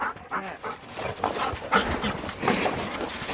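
A dog out shed hunting pants and whimpers close by in short, uneven bursts, with a few excited vocal yips mixed in.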